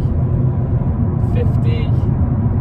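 A VW Golf accelerates back up to speed, a steady, loud, low engine and road rumble filling the cabin throughout with no clear rise or break.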